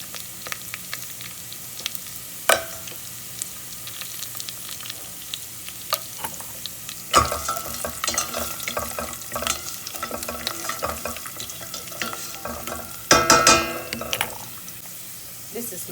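Onions browning in a pan for Egyptian koshari, stirred now and then with scraping clatters over a steady sizzle, with louder bursts of stirring partway through and near the end.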